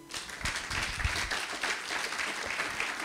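A church congregation applauding during a sermon: steady, moderate clapping from many hands, fairly close and sustained for a few seconds, with no talk over it.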